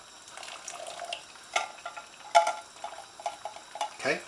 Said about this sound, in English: I'm adding the chickpeas with the water.